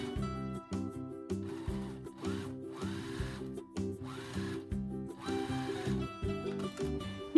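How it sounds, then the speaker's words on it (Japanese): A home sewing machine stitches a zipper onto outer fabric for a box pouch, running in steady bursts with a rhythmic mechanical hum and brief pauses between runs. "ファスナーの引き手を下にして表生地の上に縫い付けていきます。"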